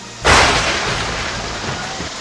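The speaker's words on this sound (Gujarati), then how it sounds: "દરિયાકાંઠા વિસ્તારમાં તો ગાજવીજ સાથે મેઘરાજાએ રમઝટ બોલાવી।" Heavy monsoon downpour with thunder on the Saurashtra coast of Gujarat. A loud broadband crash breaks in suddenly, then settles into a dense, steady roar of rain that holds to the end.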